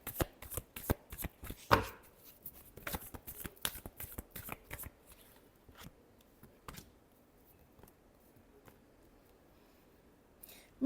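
Tarot cards are shuffled close up in a rapid series of crisp riffling flutters and taps, dense at first and then thinning into sparser slaps and shuffles.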